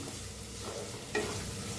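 A soft, constant sizzle of green chillies roasting with turmeric and salt in a hot pan, broken once by a brief scrape or clink of stirring.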